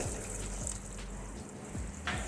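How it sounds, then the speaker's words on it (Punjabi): Water pours into a pumpkin paneer gravy in a pan, giving a soft steady splashing hiss that runs throughout at low level, with faint clatter and no talk. "ਤੇ ਗ੍ਰੇਵੀ ਦੇ ਵਿੱਚ ਆਪਾਂ ਪਾਣੀ ਪਾ ਦੇਵਾਂਗੇ ਹੋਰ"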